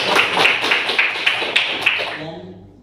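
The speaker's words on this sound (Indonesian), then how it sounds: "Oke, tepuk tangan untuk" A classroom of students clapping together at the end of a religious education lesson, a steady patter of many hands at moderate loudness that thins out and fades over about three seconds.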